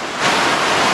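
Elephant Falls in Da Lat, Vietnam, pours down beside a stone stairway. It makes a loud, steady, close roar of falling water with no voices.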